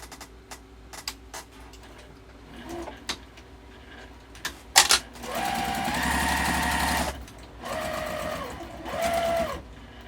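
Home sewing machine top stitching a fabric wallet sewn from fat quarters, running in three loud bursts of steady whirring stitching after a stretch of quiet clicks and handling noises.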